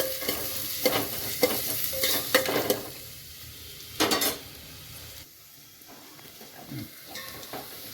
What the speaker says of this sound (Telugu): పచ్చి వాసన పోయే వరకు ఫ్రై చేసుకోవాలండి